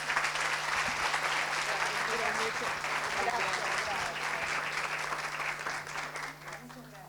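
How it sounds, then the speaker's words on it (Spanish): Strong audience applause at a conversation event for an invited speaker, dense sustained clapping from a full room lasting several seconds, tapering slightly toward the end, with faint voices underneath. "un fuerte aplauso para Marcela"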